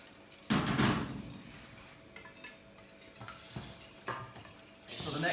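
Whisky liqueur being stirred into a chocolate mixture in a bowl for a chocolate fondant, heard as steady scraping and swishing with a few soft knocks of the utensil against the bowl, close by and without speech.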